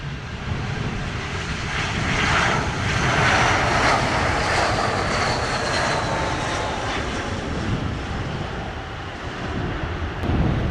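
A WestJet airliner takes off from runway 07 in Jamaica, its loud continuous jet roar steady across the whole stretch with gusty wind noise blowing over the microphone.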